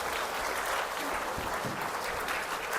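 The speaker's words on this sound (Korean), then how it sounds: "큰 박수 부탁드립니다." Audience applause at a church new-family welcome rally, a steady, fairly faint wash of clapping that fills the hall throughout without a break.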